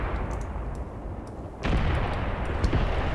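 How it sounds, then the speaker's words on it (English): Mortar strike in the video game Graviteam Tactics, a low rumbling barrage in which a heavy impact suddenly lands midway, followed by sustained booming and scattered distant blasts. "Mortar strike."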